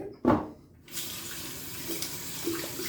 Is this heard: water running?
yes